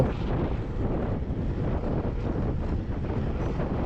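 Steady, rushing wind roars across the microphone as a mountain bike is pedalled into a headwind on a 43 km ride, a dense unbroken buffeting that stays loud throughout with no voices.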